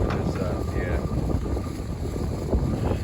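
Wind buffets the microphone in a constant, heavy roar with gusty surges throughout during hard rain; no voices are heard.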